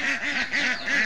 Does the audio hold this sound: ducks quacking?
yes